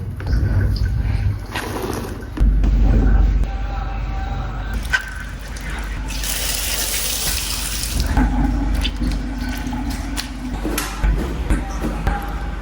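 Hot water running from a geyser tap in a home bathroom, a splashing gush that surges and fades in bursts over about twelve seconds, close by, with someone talking in parts.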